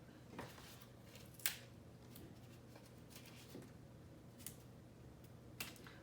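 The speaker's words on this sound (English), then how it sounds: "I'm gonna just use my scissors" Scissors snip paper now and then, faint clicking cuts spaced unevenly against a quiet room hum.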